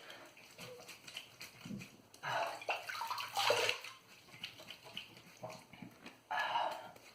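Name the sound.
rinsing a Razorock GC68 safety razor under running water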